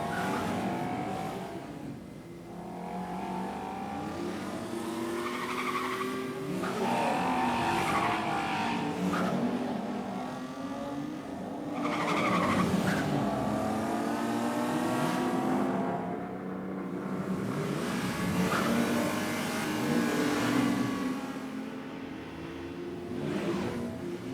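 A BMW M2 in a car commercial, engine revving and rising through gears with tires squealing and skidding in repeated surges, loud and continuous with no talking.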